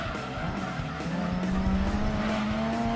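A video game race car revs with a rising engine whine and screeching tire squeal as it pushes close against another car, loud and continuous with no talking over it.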